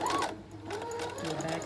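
A sewing machine stitches along pinned fabric pieces for a Halloween treat bag with a quiet, steady mechanical hum, while a voice speaks softly over it.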